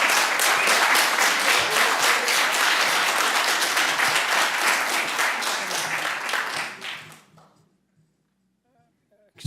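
Audience applause fills a room at a city board of aldermen meeting, a dense sustained clapping that runs loud for about seven seconds, then fades out to near silence.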